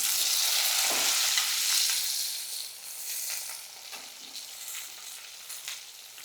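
Winter vegetables fry in a pan with a steady, bright sizzle, joined by occasional stirring scrapes and clatters. The hissing eases slightly partway through.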